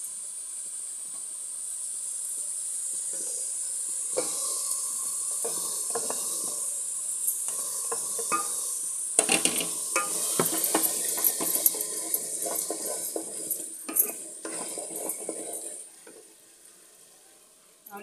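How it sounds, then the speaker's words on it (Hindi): Minced meat stir-fried with vegetables in a hot pan for Singapore rice noodles, a loud continuous sizzle and hiss broken by scraping and clattering stirring strokes that fade near the end. "हम ये कीमा को इसमें ऐड कर देंगे।"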